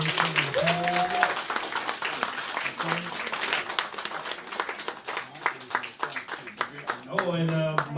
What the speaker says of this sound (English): Please give a round of applause to Tiffany and the moderation.